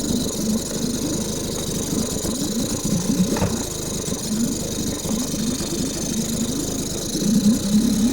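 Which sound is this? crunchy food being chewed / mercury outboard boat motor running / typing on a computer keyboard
mercury outboard boat motor running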